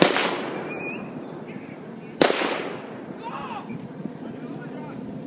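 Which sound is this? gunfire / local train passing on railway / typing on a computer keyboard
gunfire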